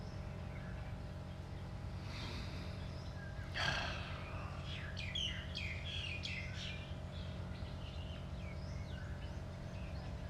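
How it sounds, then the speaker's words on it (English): Birds singing outdoors in Thailand, scattered chirps and short trilling phrases at a distance over a low steady background hum, faint and intermittent. "Maybe you can hear the birds singing now."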